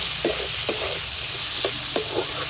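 Shrimp hit a hot frying pan with salt, turmeric and potatoes, giving a close, steady sizzle broken by a few sharp clinks and stirring scrapes spaced through the stretch, with no talking.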